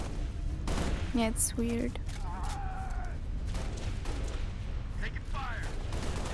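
Gunfire from Halo: Reach in a co-op fight: a steady bed of distant battle noise with sharp bursts and effects, partly covered by players talking.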